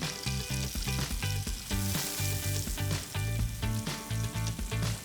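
Salmon fries in a pan of gently foaming butter, a steady close sizzle and crackle that runs unbroken throughout, with no voices.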